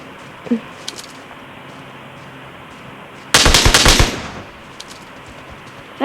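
Loud burst of M4 assault rifle fire in the battle royale game PUBG, a rapid volley of close gunshots lasting under a second, with faint game ambience and small clicks before and after.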